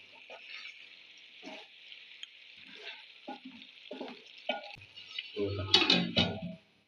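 Chicken curry frying in a pan is stirred with scraping strokes over a steady sizzle, which grows louder and busier toward the end. A voice speaks briefly under the cooking.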